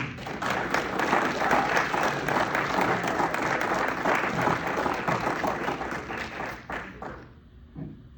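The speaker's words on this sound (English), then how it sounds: "give a round of applause for Dave and Mary" Audience applause for Dave and Mary at a fishing club awards night, a dense even round of clapping that tapers off near the end into quiet.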